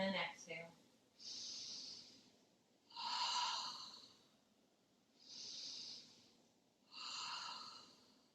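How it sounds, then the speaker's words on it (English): Deep Pilates breaths, a slow rhythm of four long airy exhales and inhales in close succession, with a brief spoken voice at the start. "And an exhale."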